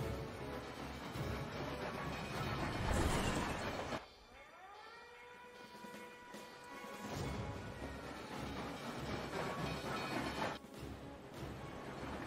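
Train sounds in the video game Ninja Gaiden Sigma: loud, dense rumbling and clanking with a sudden drop into descending tonal whines, then the heavy roar resumes.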